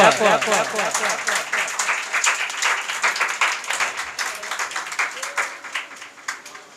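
Students at a school Teacher's Appreciation Day clapping for a third prize winner, a fairly close crowd of hands at first, thinning into fewer distinct claps as it goes on, with some voices in the background.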